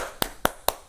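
Three sharp claps of chalked hands knocking off climbing chalk, evenly spaced and close, with nothing else around them.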